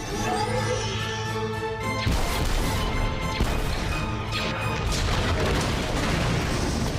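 Bombs stowed in a cargo hold explode in the Star Wars Rebels episode "Iron Squadron": a continuous roar of loud crashing blasts and rumbling booms, dense and close, with no pause.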